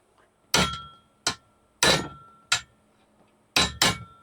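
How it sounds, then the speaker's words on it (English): Six sharp metallic hammer taps at an uneven pace, some in quick pairs, tapping in a wideband sensor on a 1984 Buick Regal, close and fairly loud with brief ringing after each strike. "could probably just tap it in with a hammer at this point"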